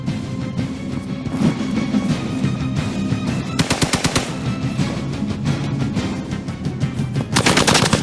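Marvel's Midnight Suns combat sounds include rapid gunshot volleys that crack out in clusters over a rumbling game soundscape, loud and close, with a second burst near the end.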